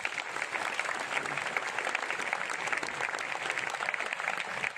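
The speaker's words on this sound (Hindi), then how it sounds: "उनके लिए आप लोगों की तरफ से जोरदार तालियां" A crowd bursts into vigorous, sustained clapping at a gathering, a dense, continuous patter of many hands held at an even level for several seconds with no voices over it.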